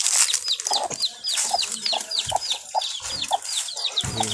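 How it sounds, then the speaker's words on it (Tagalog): A baby chick that had dropped down gives rapid, high, repeated peeps close by, with a hen's low clucks breaking in now and then at a poultry pen. "Yun ay isang sisiw, nalaglag lang yan kanina"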